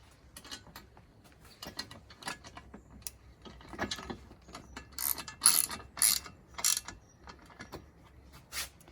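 A ratchet tightens a bolt that is being snugged up, not torqued, giving quick irregular bursts of clicks that grow louder and denser partway through, with no talking.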